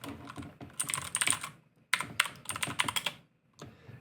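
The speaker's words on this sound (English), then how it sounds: "I love how clicky my blue switch is." Rapid, crisp clicking of keys on a mechanical keyboard with blue switches, in two bursts of busy typing with a brief pause between them.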